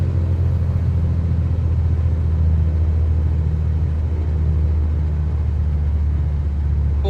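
The Carenado C182 RG II single-engine retractable-gear plane in a flight simulator, its engine at reduced throttle: a steady low drone and rumble that holds evenly throughout, with no talk.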